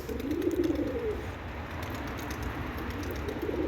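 Tumbler pigeons cooing in a loft, soft low warbling coos repeating at close range over a steady background hum, with no talk.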